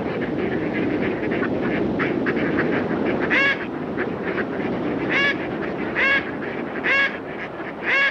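Wild ducks foraging beside running water in winter, with repeated loud quacks in short bursts over a constant rushing water background.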